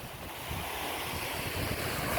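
Ocean waves wash steadily outdoors with wind noise on the microphone, making a continuous broadband surf wash that builds slightly toward the end, with no voices.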